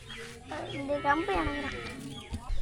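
Cattle tied in a cow shed on a family farm low and moo nearby, mixed with other farmyard sounds and a voice talking over them.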